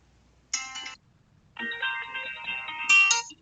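A phone ringtone goes off in a lecture hall, two bright electronic melodic bursts: a short half-second phrase, a pause, then a longer ringing stretch of nearly two seconds, clear and moderately loud over a quiet room.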